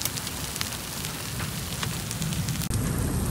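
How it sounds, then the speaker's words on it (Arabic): Hail and rain fall in a storm at the entrance to Fawwara, northeast of Mecca: a dense, steady hiss of rain and scattered sharp ice-pellet ticks drumming on nearby surfaces, continuous and fairly loud, no talking. "ما زال تساقط حبات البرد تستمر الآن في مدخل فوارة شمال شرق مكة المكرمة"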